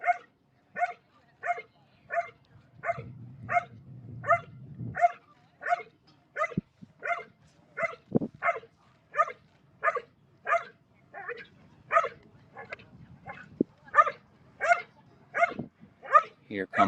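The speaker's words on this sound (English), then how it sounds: "Can you hear the dog barking?" A dog barks steadily in a training run, giving a long regular series of sharp barks about twice a second, close and fairly loud, with some low rustling and a couple of thumps underneath.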